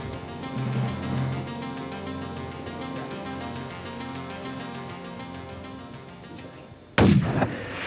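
A single loud, sharp hunting rifle shot rings out suddenly near the end, after several seconds of quiet outdoor ambience with low humming tones.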